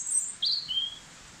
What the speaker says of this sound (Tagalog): Pinapakinggan ko lang yung ibon.